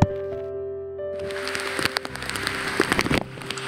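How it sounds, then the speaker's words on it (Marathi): Heavy monsoon rain pours on the descent from the Sahyadri ridge down Madhe Ghat toward the Konkan, rising after a brief steady tonal hum into a dense, close patter with sharp drop impacts. "जोरदार पाऊस चालू झालाय."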